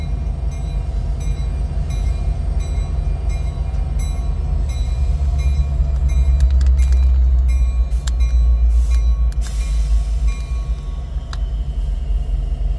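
A CN freight train switching cars at Ladysmith gives a steady low rumble of idling locomotive and rolling railcars, with scattered metallic clanks and a brief high squeal near the end.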